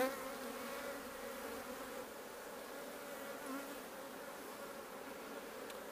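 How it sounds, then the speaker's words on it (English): A dense, steady hum of many honey bees buzzing together while being shaken from frames into a top-bar hive, close by and fairly soft, with no voices. "so I'm going to shake some bees in"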